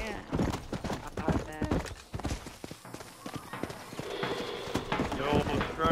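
Horse hooves clip-clop in a steady rhythm while riding in a video game, fairly close and clear, with players' voices talking over the hoofbeats.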